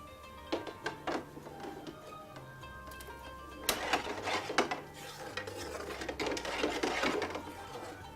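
Squash stuffing being stirred in a bowl, with soft scraping and clinking of utensils that builds in intensity, set against a steady background music bed.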